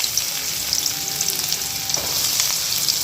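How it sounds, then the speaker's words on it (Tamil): Chopped onions hitting hot oil for a chicken pepper fry, producing a loud, dense, steady sizzle that crackles close by throughout, with no one speaking. "இப்போ இந்த எண்ணெயில் வெங்காயத்தை சேர்த்துக்கலாம்."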